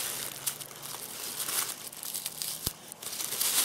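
A UST Sabercut razor saw rasps and crackles close by as it cuts, a continuous gritty tearing texture with bursts of crunchy noise across the whole stretch, no one speaking.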